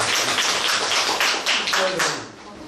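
An audience at a Korean talk event claps to welcome a speaker, a dense, continuous burst of many hands nearby that tapers off toward the end.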